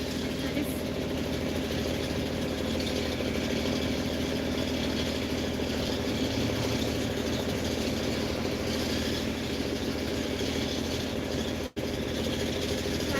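A truck's Mercedes MBE 4000 diesel engine idles with a steady, loud, low rumble throughout, with a brief dropout near the end and people talking faintly in the background.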